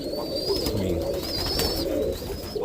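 Roller pigeons coo inside a loft, with soft low throaty coos layered under faint higher chirps and a steady background hum, close and continuous with no voices.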